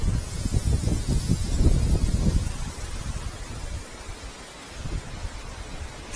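Wind gusts beside a river stream at Offord, buffeting the microphone with heavy low rumbles for the first couple of seconds, then easing to a softer, uneven rustle.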